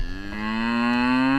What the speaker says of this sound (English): I'm going to introduce you to my cow Claire